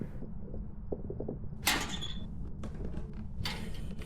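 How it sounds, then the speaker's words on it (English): In a ghost-hunting video game, a door scrapes and drags shut in a few rough bursts after some soft thuds, close and moderately loud against a low background hum. "click, drag, hold the door, shut"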